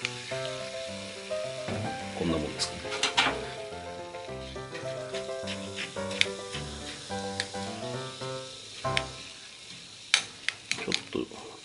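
Carbonated water poured over a Garigari-kun ice pop fizzes and crackles in short bursts over steady background music, with a brief spoken remark.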